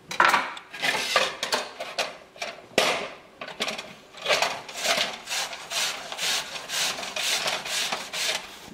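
Zucchini being grated for soup, a steady run of rhythmic rasping strokes against a metal grater, close and fairly loud with no talk.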